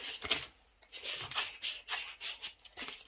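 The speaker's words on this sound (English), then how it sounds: "coating with the sandpaper" Sandpaper rubbing over a soft basswood spoon being carved by hand, giving repeated close, brisk scratchy strokes in a steady back-and-forth rhythm with one short pause near the start.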